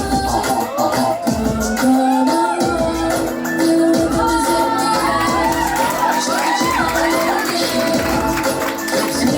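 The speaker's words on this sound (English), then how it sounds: "Please keep cheering for our wonderful ladies." A lively crowd at a company Diwali celebration cheers and shouts for a group of women, voices overlapping loudly and continuously, with high excited shrieks and whoops rising above the steady roar.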